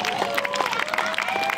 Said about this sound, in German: Das Publikum applaudiert wegen diesem Special-Effekt.